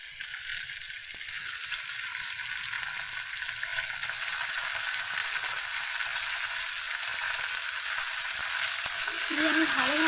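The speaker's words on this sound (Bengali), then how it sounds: "নাড়াচাড়া করার পরে আমি পিস করা পোলট্রির মাংসটা তেলের ভিতরে দিয়ে দিচ্ছি।" Chicken pieces fry in hot oil with tomato, giving a loud, close, continuous sizzle with stirring scrapes, and a brief faint sound near the end.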